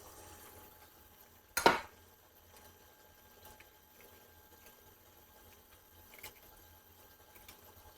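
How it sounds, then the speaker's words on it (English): A single sharp crack near the start as eggs are broken into a measuring cup while making a gluten-free sweet potato casserole, followed by a quiet kitchen with faint small clinks. "I'm going to crack my eggs into my measuring cup"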